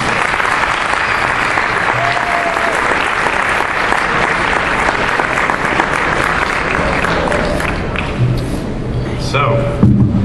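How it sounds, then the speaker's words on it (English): Sustained, dense applause from an audience at an Iranian student foundation Shab-e Yalda celebration, loud and steady for about ten seconds, with faint voices and a few cheers mixed in near the end. "give her another round of applause"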